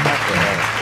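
A short burst of steady clapping from a small group, dense and continuous, during a Naruto Storm 2 game session.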